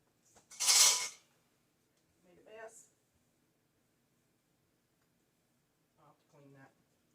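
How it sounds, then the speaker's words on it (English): Metal cutlery clinking as a spoon is picked up in a kitchen, one bright clatter near the start followed by brief softer handling sounds and short bursts of speech. "I'll get a spoon for this"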